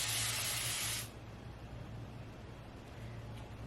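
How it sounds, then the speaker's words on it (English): A handheld spray bottle gives one loud, bright burst of fine mist lasting about a second, then falls silent over low background hum. "This is a great spray bottle, because watch this."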